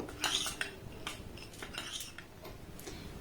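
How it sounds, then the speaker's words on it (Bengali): A spoon clinks and scrapes against a bowl while tutti frutti is mixed into flour, with a quick run of light, close metallic taps and rattles and no voices. "এই কটা উপকরণ একটু এইভাবে নাড়াচাড়া করে আমি ময়দার সাথে মিক্সড করে নেব"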